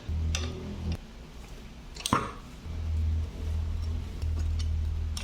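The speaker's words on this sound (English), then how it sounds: "I can hear a lot of rust has been crunching underneath." Rust crunching inside a stuck seat post on a Bruno 700C touring bike being twisted out of the frame, with a few sharp creaks and a squeal between low grinding stretches, close and alone.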